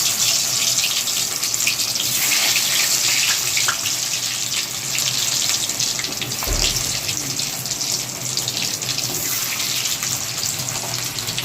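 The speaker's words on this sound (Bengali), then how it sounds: "এবার কিন্তু এই আলুগুলো তেলের মধ্যে ছেড়ে দেওয়া হচ্ছে" Potatoes fry in hot mustard oil in a wok, giving a loud, steady, hissing sizzle that fills the whole stretch without pause and with no voices over it.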